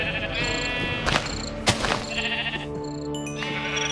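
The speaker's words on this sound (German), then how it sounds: "Ihr seid doch hier Schäfchen" Sheep in the video game Minecraft bleat several times in wavering cries over a steady background hum.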